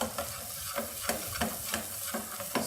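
Garlic frying in hot oil in a pan before fiddleheads go in, an even sizzle broken by a regular series of stirring scrapes about every third of a second, close up with no talking.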